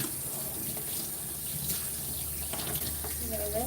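Tap water runs steadily into a bath while a small Yorkie Biewer dog is rinsed, a continuous close splashing rush with faint voice sounds mixed in.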